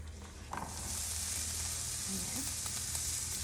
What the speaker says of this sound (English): here I have my hot skillet. I'm gonna go ahead and put in my onion.